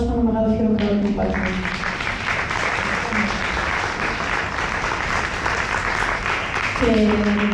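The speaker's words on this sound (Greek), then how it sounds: "να δώσουμε ένα μεγάλο χειροκρότημα πάλι" An audience claps loudly at a Women in Lighting Greece event in Athens, a dense, sustained burst of applause after a woman's speech that fades back into her talking at the end.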